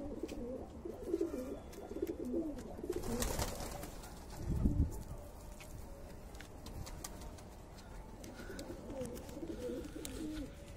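A pigeon on a rooftop coos in soft low repeated calls, fairly close, with a brief louder thump midway and faint outdoor background noise.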